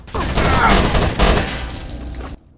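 A dense burst of rapid assault rifle gunfire from the PC game Tom Clancy's Rainbow Six: Vegas roars continuously for about two seconds, loud and close, then cuts off abruptly.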